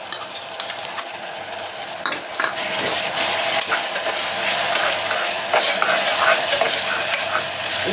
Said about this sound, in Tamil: பச்சை வடை போகிற வரைக்கும் கொஞ்சம் நல்லா வதங்கி வரட்டும்